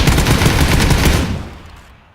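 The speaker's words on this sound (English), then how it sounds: "I do think I hit a K98 shot on him here, and Pete gets the finish." A single loud K98 rifle shot in a video game cracks close by, then its echo rolls away and fades over about a second.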